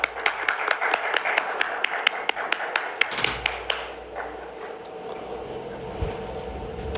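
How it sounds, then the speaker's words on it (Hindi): Scattered clapping at an award ceremony stage: a few distinct claps in a loose rhythm for about three seconds, then a softer, thinner patter of applause trailing off under room noise. "जोरदार तालियां।"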